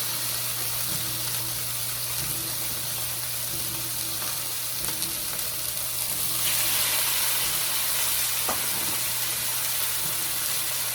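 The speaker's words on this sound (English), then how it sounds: "I'm going to drop those in the cast iron skillet." Two ribeye steaks sizzling in a cast iron skillet, a loud, dense, unbroken frying hiss that swells brighter partway through, with a steady low hum beneath and no talk.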